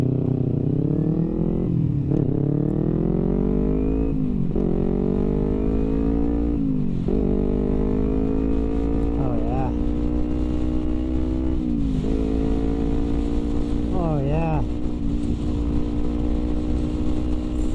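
A Kawasaki Ninja 250R motorcycle accelerates hard through its gears from the rider's position. The engine climbs steadily in pitch, drops briefly at each of several upshifts, then keeps climbing, loud and continuous throughout.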